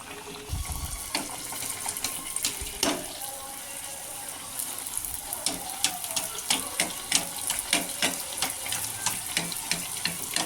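Puri frying in hot oil, giving a continuous bubbling sizzle with dense crackling pops and a few louder splashes, close and steady.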